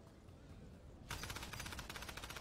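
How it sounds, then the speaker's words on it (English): Automatic gunfire in the battle royale game Apex Legends breaks out after about a second of quiet game ambience, then runs as a rapid, evenly spaced burst of close, loud shots. "I just got shot at."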